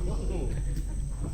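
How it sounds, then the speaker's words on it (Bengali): A steady, high-pitched insect drone, like crickets, rings continuously over a low background rumble in the Sundarbans forest, with a faint voice underneath. "ঝিঝি পোকা বা অন্যান্য পোকার ডাক"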